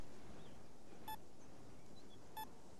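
A mine detector pulled from a supply truck emits two short, evenly spaced electronic beeps over a faint steady background hiss, with no talking.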